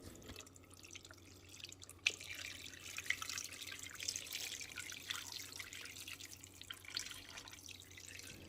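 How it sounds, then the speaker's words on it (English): Hot sauce brine poured over bone-in chicken pieces, a steady liquid trickle and dribble with scattered drips running for several seconds, fairly quiet and without talk. "And now I'm going to pour it over my chicken pieces."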